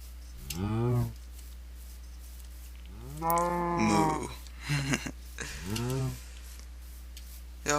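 Cattle mooing in the video game TerraFirmaCraft: three long, low bellowing moos spread across the stretch over a steady electronic hum, with a few brief softer sounds in between.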